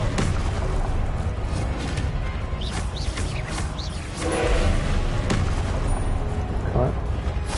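Confringo spell explosions in a Hogwarts video game boom and thud repeatedly through a dense, loud mix of battle noise, with a voice speaking throughout.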